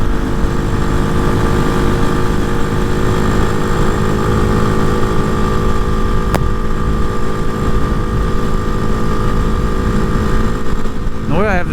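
A Hawk 250 motorcycle fitted with a six-speed Loncin RE250 engine drones steadily while riding at highway speed. The engine and wind noise stay loud and close without a break.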